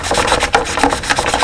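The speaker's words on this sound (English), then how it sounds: "Going at them with 600 right now." A car headlight is wet sanded by hand with 600 grit sandpaper, giving close, rapid, rhythmic back-and-forth rubbing strokes.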